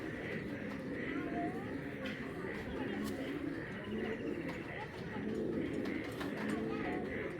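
Pakistani pigeons coo in a steady low murmur through the whole stretch, with a constant crowd of birds and room noise around them; someone speaks faintly at times beneath the cooing.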